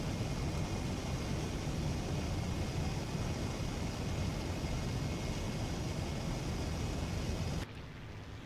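Steady roar of a Chaika biplane engine in flight in War Thunder, a constant loud drone at full speed that cuts to a quieter hum near the end.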